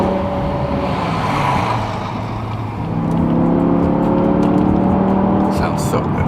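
A BMW M5 E60 engine revs and accelerates in busy traffic, a loud rising drone that dips and then climbs again in pitch, close by and continuous.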